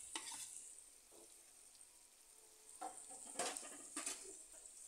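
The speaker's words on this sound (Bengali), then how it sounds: "এবার আমি ভাজা ফুলকপি আলুগুলো দিয়ে দিচ্ছি।" Fried cauliflower and potatoes go into hot, spiced oil for a Bengali rui fish curry. A soft, steady sizzle is broken by a few louder bursts of frying and stirring, faint and close, with no talking.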